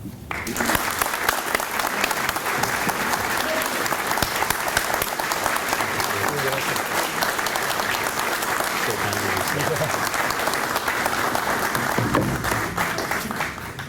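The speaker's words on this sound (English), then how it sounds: "Would you please welcome and applaud our first recipient, Professor Tom Weber." A homecoming-weekend prize-presentation audience gives sustained, dense applause that holds at an even, loud level for about fourteen seconds with no break.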